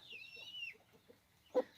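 A Faverolles hen gives a series of soft, low clucks, quiet and close, with a high chirp early on and a sharper cluck near the end.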